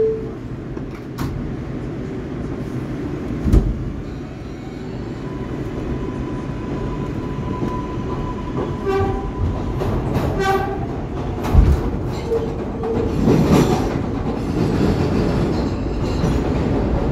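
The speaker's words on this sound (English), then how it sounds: "This is a Bowling Green bound 4 express train." A New York subway 4 express train, an R142A on the Lexington Avenue Line, rumbles steadily along the tracks with rattling, clacking wheels and a brief horn-like tone partway through, loud and close throughout.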